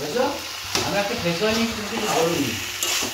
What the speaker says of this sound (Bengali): এই যে মা দেখো কি করছে, টেস্টি টেস্টি একদম মোচার তরকারি রান্না হচ্ছে।